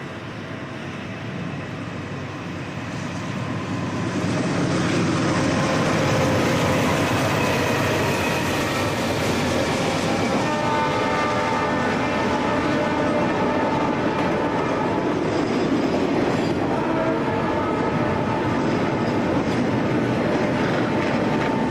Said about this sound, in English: Another westbound stack train thunders through Oak Harbor at near 60 per.